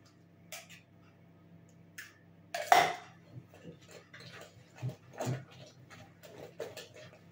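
Eggs are cracked for a courgette (squash) cake, giving a few sharp knocks and crisp cracks against a bowl in a quiet kitchen, with light clinks following.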